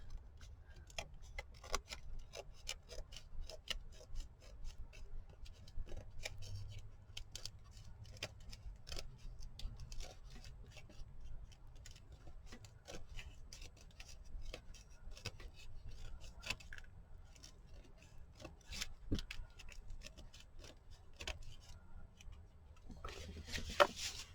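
A small pair of scissors snips paper while a scrapbook cover is being made. The cuts are faint, irregular and close, with soft rubbing and rustling between them, over about twenty seconds with no speech.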